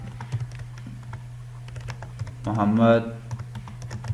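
Keys clatter in quick, light taps on a computer keyboard as a name is typed into an HTML heading, with someone speaking Hindi briefly over the typing.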